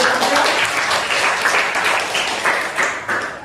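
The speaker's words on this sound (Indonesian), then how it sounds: "Oke, berikan aplaus dulu." A classroom audience breaks into dense, continuous applause, many hands clapping at close range at a steady level for the whole stretch, with no talking over it.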